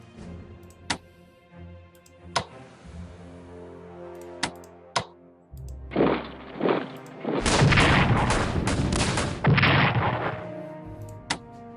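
Artillery fire in the strategy game Strategic Command WWI: a few sharp, isolated reports, then a dense, loud burst of blasts and rumbling gunfire with no talk.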